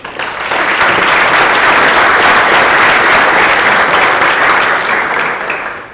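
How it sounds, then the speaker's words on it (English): An indoor audience at a 2018 celebration event applauds loudly and steadily for about five seconds, the clapping swelling in quickly and fading at the end. "give a round of applause for Flourish"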